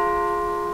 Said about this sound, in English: the biggest bell, which is this one